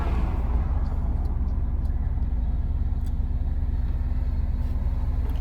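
Car with a newly fitted Garrett G30-770 turbo, built up from stock toward 600 hp, driving on cold tires; a steady low engine drone and road rumble fill the cabin without letup.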